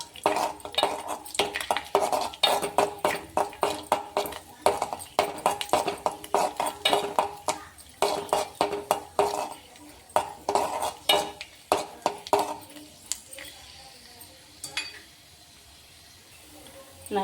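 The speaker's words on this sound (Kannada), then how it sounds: "ಗೋಡಂಬಿ ಹಾಕ್ಕೊಂಡಿನ್ರಿ, ಗೋಡಂಬಿ ಒಂದು ಸ್ವಲ್ಪ ಫ್ರೈ ಆಗೋಣ" Cashews fry in a pan while a metal spoon stirs them, giving repeated rhythmic scraping and clinking against the pan with light sizzle beneath, and a voice talks over it before the stirring fades out near the end.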